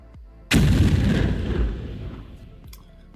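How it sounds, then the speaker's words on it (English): A Minecraft TNT explosion in a modded game: one sudden, loud, deep boom that rolls and fades slowly over a couple of seconds, with nothing else. "I have to make you hear the explosion sound of this"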